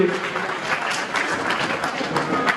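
Audience applause at a chess tournament in Kopargaon, a steady dense clapping from a crowd filling the space and holding even throughout, with no voices standing out above it.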